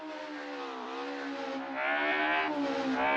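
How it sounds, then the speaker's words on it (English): A Citroën ZX rally car's engine howls at full throttle, a loud, sustained harmonic roar that climbs steadily in pitch as revs build, close and continuous with no talking. "Speeding through Bentley at full throttle, the ZX pushes to its absolute limit"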